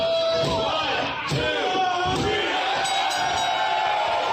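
Wrestling crowd roars and cheers continuously at a pro wrestling event, a loud, dense wall of voices with shouts rising over it.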